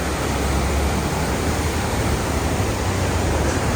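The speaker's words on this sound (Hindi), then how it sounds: "बहुत ज़्यादा बहाव है यार" Fast-flowing river in Nepal, a steady, loud broadband rush of churning water that holds constant throughout with no breaks and no voices.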